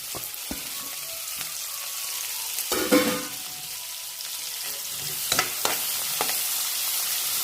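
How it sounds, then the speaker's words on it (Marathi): Chopped onion hits hot oil in a pan for an Indian dish and sizzles steadily and close. A few louder hissing flares and stirring scrapes rise above the continuous frying. "आता कांदा टाकते बघा."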